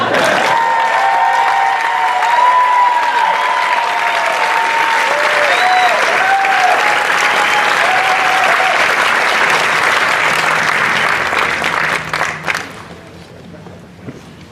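Loud, dense applause at a 2017 Clinton School of Public Service commencement ceremony, a crowd clapping steadily for about twelve seconds before it tapers off, with voices sounding under it.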